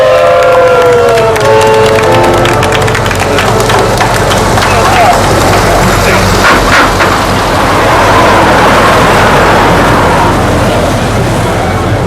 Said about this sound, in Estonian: aplausi ilusa mängu eest.